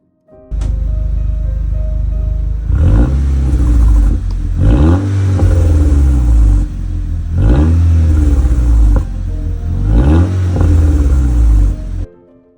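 A VW Golf with 170,000 kilometres and a rattling turbo wastegate, revved several times in repeated rising and falling sweeps over a steady loud idle, with a metallic clatter through each rev, close by.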